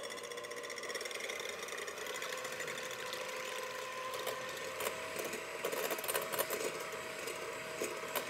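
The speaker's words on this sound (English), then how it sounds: "I'm gonna beat them until they're nice and foamy before I start adding the sugar." An electric mixer whirs steadily as it beats egg whites in a bowl until foamy, a constant mid-level motor drone with light rattling from the beaters and no talk.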